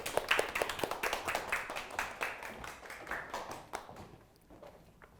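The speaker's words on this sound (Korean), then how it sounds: "큰 박수로 모시겠습니다." A small audience at a keynote lecture claps together, dense at first and then thinning out and fading away over a few seconds.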